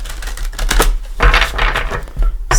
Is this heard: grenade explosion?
no